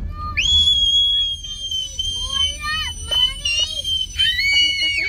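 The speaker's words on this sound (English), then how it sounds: "Okay, now you can scream." A child lets out long, high, sustained screams, several drawn-out cries with brief breaks between them, loud and close.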